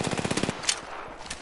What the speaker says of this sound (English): I'm getting shot at. Firing.